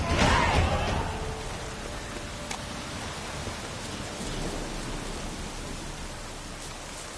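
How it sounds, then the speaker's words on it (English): Steady rain with a low rumble of thunder in a video game, a dense hiss of falling water that swells briefly at the start, then settles into an even downpour. "Looks like rain."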